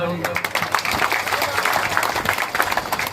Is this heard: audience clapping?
yes